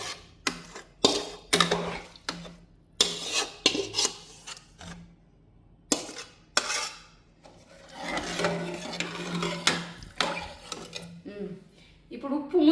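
Washed rice tipped into a metal pot for pudina biryani, a series of clattering scrapes and rattling pours of grain against the pot, with brief talking between them.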